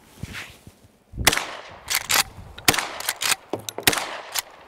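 Remington 870 shotgun firing slugs outdoors, several loud sharp blasts in quick irregular succession with echoing tails, plus a faint metallic clack between shots.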